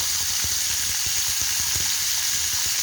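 Chicken steak frying in a pan with a loud, dense, continuous sizzle, plus faint regular low taps close by and no voices.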